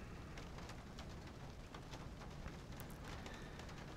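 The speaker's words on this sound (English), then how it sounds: "since we can hear the rain, I'm assuming it does." Rain falls outside a room in the video game Syberia as a faint, steady patter and hiss with scattered drop ticks, continuous and calm with no talk over it.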